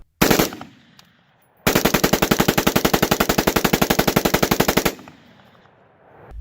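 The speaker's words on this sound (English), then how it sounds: "here it is again, with the currently fully legal bump stock installed on the AR-15" A bump-stock-equipped AR-15 fires a long, rapid, evenly spaced stream of loud shots outdoors, preceded by a brief opening burst and a pause, each report sharp and close with a decaying echo after the string ends.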